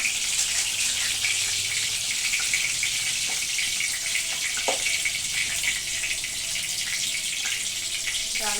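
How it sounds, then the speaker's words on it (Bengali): Tap water runs steadily into a kitchen sink as bay leaves are rinsed under it, a continuous close hiss and splash with faint clinks in the background. "তেজপাতাটা একটু ধুয়ে নিচ্ছি কারণ তেজপাতাটা একটু ময়দা আছে ধুয়ে দিলাম"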